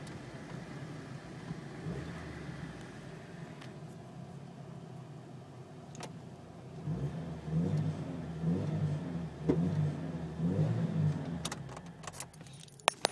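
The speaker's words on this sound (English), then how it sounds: "Engine's strong for a little 4-cylinder." A 1998 Jeep Cherokee SE's small four-cylinder engine hums steadily from inside the cab while driving, with a low, fairly quiet drone that rises a little in the second half, alongside light rattles and jingles.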